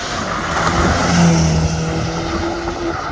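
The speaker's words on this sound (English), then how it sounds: "I could hear him going into the launch control" A 2013 BMW X5M revs up and pulls away hard on launch control at a distance, a steady roar with a rising tone in the middle, set against a wide wash of background noise.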